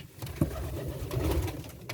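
Pigeons cooing in a loft with young birds, a low murmuring coo that repeats steadily and close over a faint room background.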